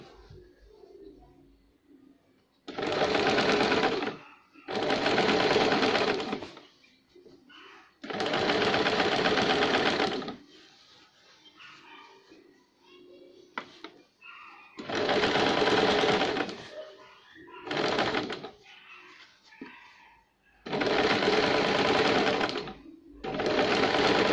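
Sewing machine stitching a sleeve onto the shoulder of a baby girl's shirt, running in several loud bursts of a few seconds each, separated by short pauses with quiet handling of fabric.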